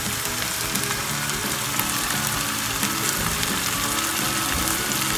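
Chopped tomato sizzling and frying in a hot pan, a steady, dense, loud hiss that continues without a break and with no talk over it.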